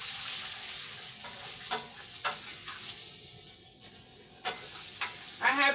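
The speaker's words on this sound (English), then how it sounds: "I have some onions here that I'm browning." Onions browning in a pan beside ground beef, a steady close frying sizzle and hiss with occasional sharper pops and stirring scrapes throughout.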